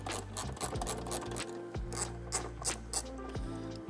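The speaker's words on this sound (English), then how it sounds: "we have a 10mm here and a ratchet, and we're going to be removing this 1 bolt on the Tacoma" A 10mm ratchet turns a bolt on a 2024-or-later Toyota Tacoma, giving steady close clicking over a continuous low background hum, with a few louder clicks standing out.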